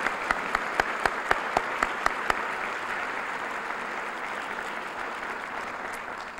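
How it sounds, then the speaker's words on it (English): An audience at a 1996 public event gives a sustained round of applause; a few sharp individual claps stand out at first, then steady dense clapping continues throughout. "I would hope you would join me in another round of applause."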